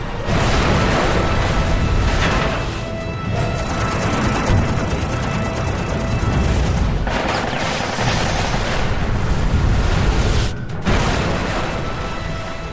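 A MiG-15 jet fighter explodes at 900 m altitude, rendered as loud, dense roaring blasts and rattling bursts like gunfire that run on continuously with brief breaks, with no voices.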